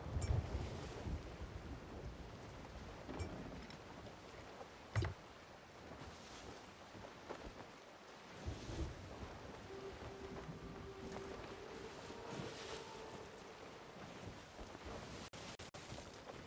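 Ocean waves wash steadily while sailing in the video game Path of Exile. Wind noise runs under the soft surf the whole time, with a few faint thuds and creaks, and no one talks.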